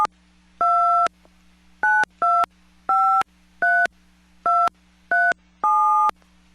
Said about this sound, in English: So now I'm going to quickly go to the touch-tone phone and very quickly demonstrate that.